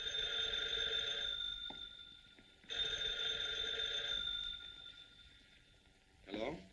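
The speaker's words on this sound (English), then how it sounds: "I just received a mysterious phone call about Uncle Martin" An old-fashioned telephone bell rings in two long electric bursts separated by a short pause, loud and shrill, followed by a brief voice at the end, in a 1943 serial scene.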